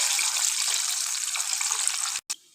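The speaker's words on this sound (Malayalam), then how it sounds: "ഇതാ അടുത്ത ട്രിപ്പ് ഇവിടെ ഫ്രൈ ആയിക്കൊണ്ടിരിക്കുകയാണ്" Broasted chicken pieces frying in hot oil at home, a loud, dense, steady hiss and crackle close up that cuts off abruptly near the end.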